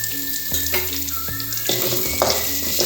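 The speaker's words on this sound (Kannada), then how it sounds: "ಸಾಸಿವೆ ಮತ್ತು ಬೆಳ್ಳುಳ್ಳಿ ಮತ್ತು ಈರುಳ್ಳಿ ಮತ್ತು ಟೊಮೆಟೊ ಇಷ್ಟನ್ನು ಹಾಕಿ ಚೆನ್ನಾಗಿ ಫ್ರೈ ಮಾಡ್ಕೋಬೇಕು" Mustard seeds, garlic, onion and tomato frying in coconut oil in a pan, giving a steady, close, crackling sizzle with occasional stirring scrapes and no speech.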